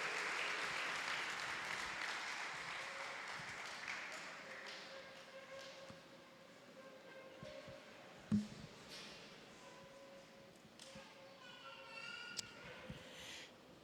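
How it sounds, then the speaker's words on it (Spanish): A church congregation at a Sunday service applauds, loud clapping at the start that gradually thins and fades, with faint talk and a few taps beneath. "Den una ofrenda de palmas a nuestro Dios"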